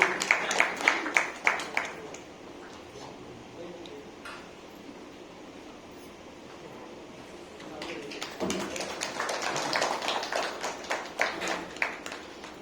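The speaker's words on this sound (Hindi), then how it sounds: "जोरदार तालियों के साथ" An audience at a Navratri program claps to welcome a guest given a bouquet: a burst of close applause, a quieter stretch in between, then a fuller, longer round of clapping.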